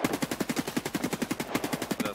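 Rapid automatic gunfire in the video game Escape from Tarkov rattles in a steady stream of evenly spaced shots, fairly faint and slightly muffled, with a short break midway.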